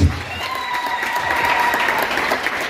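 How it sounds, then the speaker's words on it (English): Loud, dense applause from a wedding crowd fills the space continuously, with a few voices and a faint tone carrying through the clapping. "shall we give them a big round of applause?"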